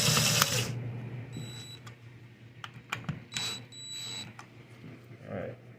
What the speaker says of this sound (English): And now I'm gonna put on the first screw.